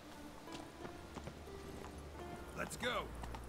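Hooves of Roach, a horse in The Witcher 3 video game, clop in a quick galloping rhythm against game music, with a short whinny near the end; someone talks over it.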